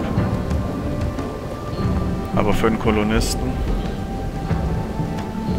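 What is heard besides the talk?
rain and thunder in video game RimWorld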